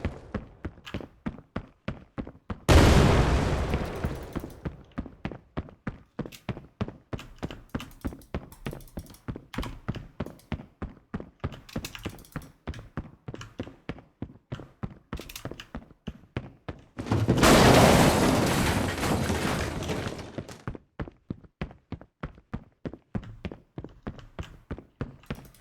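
Explosions in an Unreal Engine 5 video game: two loud, sustained blasts, each lasting around two to three seconds, set against a steady rapid train of footstep-like taps running throughout.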